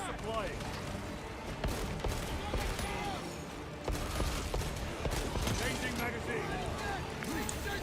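Gunfire crackles in Space Marine 2 amid a dense, busy battle mix, scattered shots and bursts under continuous combat noise, with voices talking throughout.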